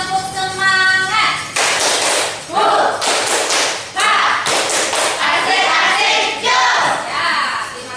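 A primary school class performs the 'tepuk semangat' clapping chant, bursts of group clapping and thumping in a steady rhythm interleaved with children's chanted voices, loud and close in a classroom.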